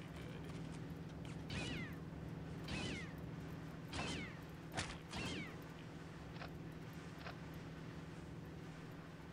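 A cat in Postal 2 meows several times in a row, fairly close and clear over a steady mechanical hum from the game.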